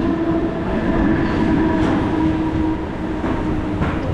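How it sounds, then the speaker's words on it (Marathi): The Nanded-Panvel Express pulls into a station with a loud, continuous rumble and rolling wheel noise, plus a few faint rhythmic clacks, and no voices over it. "ट्रेन आली"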